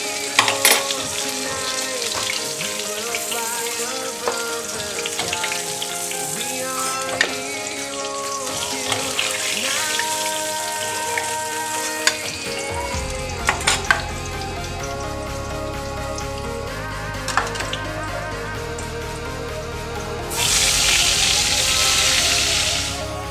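Pointed gourd (potol) frying in oil in a pan, a continuous close sizzle with occasional clatters and spoon knocks, then a louder burst of hiss near the end.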